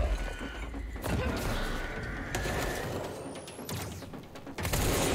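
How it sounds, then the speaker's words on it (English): Gunfire in bursts from the video game Control mixes with crashing impacts and mechanical clatter in a dense, loud, continuous game soundscape, with no talk. "Maybe a little burst fire."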